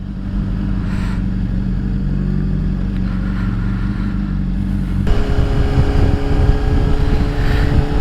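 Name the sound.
Honda CBR600RR motorcycle engine downshifting after flash tune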